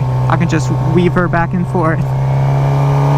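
A Suzuki GSX-R600 motorcycle engine hums at low speed with a steady low drone beneath a rider talking over it.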